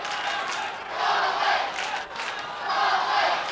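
A big Gaelic football crowd of about 20,000 roars and cheers at the 1990 Connacht final between Galway and Roscommon, a loud, sustained wall of sound that swells in waves with no talk over it.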